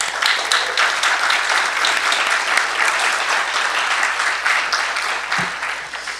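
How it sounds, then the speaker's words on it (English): An audience at an award ceremony breaks into applause, a thick, even stretch of many hands clapping at a steady level that tapers slightly toward the end. "I think we should all give a good round of applause to Menachem"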